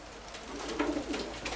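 Pigeons coo softly and repeatedly at close range, a low murmuring warble over quiet background noise, with no speech.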